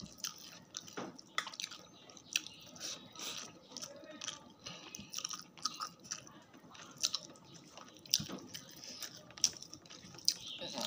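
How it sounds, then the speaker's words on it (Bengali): Meat is eaten from a bowl with close, wet chewing and smacking, irregular crunchy bites and clicks spread throughout, fairly quiet with faint background noise. "বাটির মাংস আমি খেয়ে নিচ্ছি"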